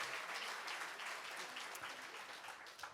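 Faint, distant applause for a music duo at a song concert, an even wash of clapping that continues steadily through the whole moment.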